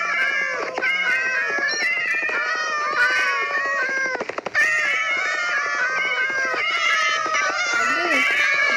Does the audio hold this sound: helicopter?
no